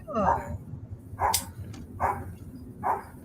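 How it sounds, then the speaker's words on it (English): A dog barks at the neighbours: four sharp, evenly spaced barks, close and fairly loud, with a brief spoken exclamation between them. "No, that's the dog barking at the neighbours."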